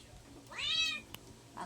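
A single clear pet cat's meow, rising and falling in a harmonic arc over about half a second, close and moderately loud in a quiet home, followed by a brief click and a soft trailing sound.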